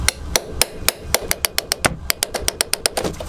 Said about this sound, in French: Chercher un marteau.